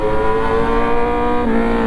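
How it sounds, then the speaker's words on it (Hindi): A Kawasaki Z900 motorcycle fitted with an Austin Racing full exhaust system holds a loud, steady engine drone close by, its pitch dropping briefly partway through. "आज अपन चलाएंगे 900 इसमें लगा हुआ है फुल सिस्टम ऑस्टिन रेसिंग देख सकते हो कितना लाउड है आपको आवाज़ आ रहा होगा"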